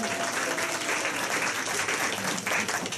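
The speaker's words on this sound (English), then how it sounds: "Give yourselves a round of applause." Audience applause fills a keynote hall for admin and support staff, a dense, steady wash of clapping sustained loudly from start to finish.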